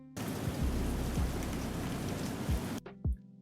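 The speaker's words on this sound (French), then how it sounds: "donc la pluie va être plus lente" A steady wash of rain sound effect hisses loudly, slowed down in editing, with low, drawn-out rumbling thuds, before cutting out abruptly into near silence.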